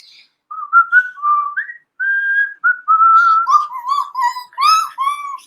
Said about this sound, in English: a man walked past the shop whistling